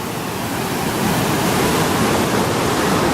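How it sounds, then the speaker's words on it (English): Tunnel Brook runs high and fast after a storm, a loud, close, unbroken roar of rushing water that swells slightly partway through, with no voices. "This part of Tunnel Brook is usually only a couple feet deep, but it is running wild"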